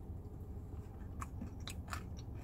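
Crunchy biting and chewing of spicy McDonald's fried chicken, a few crisp bites standing out over steady low background noise, close to the mic.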